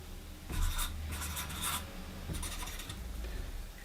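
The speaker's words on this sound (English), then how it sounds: "you can mark it up with a Sharpie" A Sharpie marker squeaks and scratches across a wooden surface in a few quick strokes, close and fairly quiet, with no voices.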